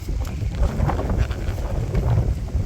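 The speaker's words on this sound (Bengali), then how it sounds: "বাবারে বাতাস" Gusty wind buffets the microphone, producing a loud, rumbling low roar that rises and falls without pause.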